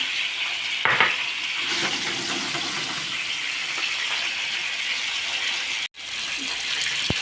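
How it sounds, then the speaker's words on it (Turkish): Steady sizzling of chicken drumsticks frying in hot oil, loud and close, with a brief clatter near the start and a short break near the end. "Evet tavuk bagetlerim güzel güzel kızarıyor."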